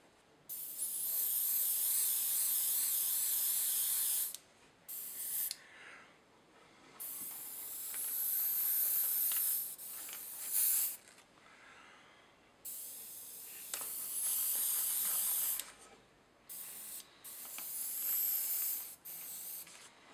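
An airbrush sprays dark grey paint over decals on a Dapol 15-ton model railway crane, producing repeated bursts of close, sharp hissing, some long and some brief, separated by quiet pauses.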